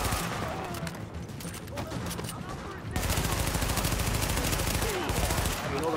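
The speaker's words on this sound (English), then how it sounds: "someone's shooting" Rapid automatic gunfire from Tom Clancy's The Division, dense bursts that grow louder and steadier halfway through, mixed with game sounds and some talk.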